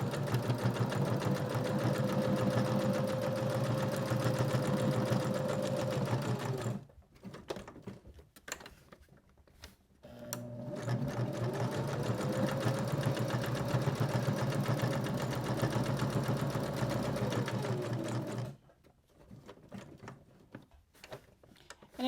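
A domestic sewing machine stitches through bulky quilt batting on a small scissor-holder project, running in two long steady bursts with a brief stop between, loud and close with a constant whirring motor hum.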